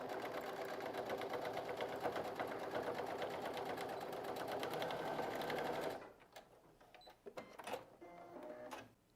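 A sewing machine stitches a seam on a pencil case with a steady, fast rhythmic clatter for several seconds, then stops, leaving quieter handling and rustling of fabric.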